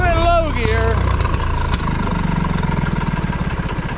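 A Massey 135 tractor engine runs close by in low gear with a steady, slightly uneven low throb, while someone talks over it.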